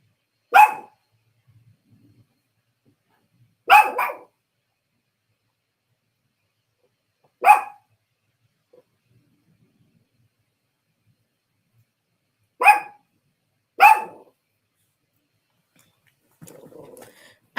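A dog that barks through storms gives five separate sharp, loud barks at irregular gaps of a few seconds with near silence between them, then a faint brief sound at the end.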